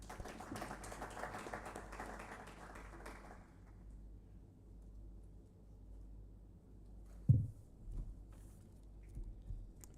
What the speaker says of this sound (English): A hand of applause for her.